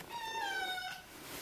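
A kitten gives a single drawn-out meow, close and clear, rising and then falling before it fades into quiet room background.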